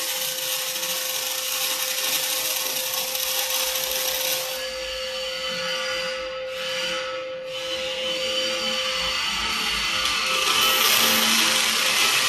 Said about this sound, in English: The positioner will rolling to adjust the welding.